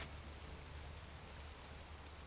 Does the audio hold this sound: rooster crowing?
no